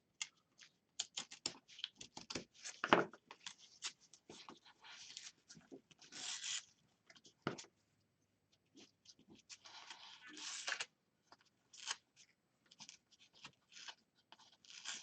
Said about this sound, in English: I think I want to peel just a little bit more off of this.